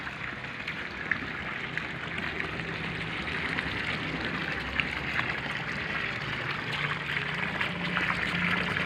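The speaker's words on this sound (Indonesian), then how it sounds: "ini air langsung diambilkan dari air sumur sehingga jatuh ke sini ya" Well water falls steadily from a PVC pipe into a koi pond, a continuous close splashing pour that runs unbroken throughout.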